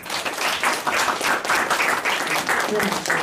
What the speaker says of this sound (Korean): 박수로 이혁계 영도사님 모시겠습니다.